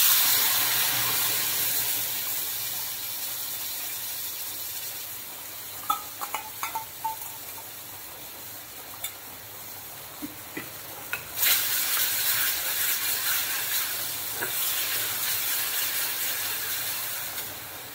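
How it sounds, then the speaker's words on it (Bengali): Spice paste for a stuffed potato curry (alur dom) sizzles steadily in a pan, broken by scattered scraping clicks of a spoon stirring it, with a louder burst of hiss partway through. "এবার যে মশলার পেস্টটা বানিয়ে রেখেছি ওটা এর মধ্যে দিয়ে দেবো।"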